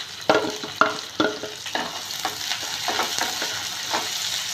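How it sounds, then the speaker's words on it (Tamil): Sliced onions sautéing in hot oil with fennel seeds, cloves and a few small cinnamon pieces, stirred in an even rhythm of scraping strokes over a bright, steady sizzle, close by and with no voices. "வெங்காயம் நல்லா வதங்கட்டும்."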